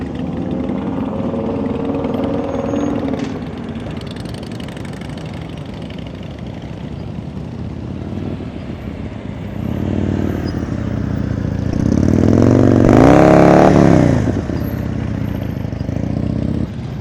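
A motorcycle engine idles roughly during slow-speed riding practice in Chicago, then the revs climb in a steady, loud preload surge before settling back, close by with no talk.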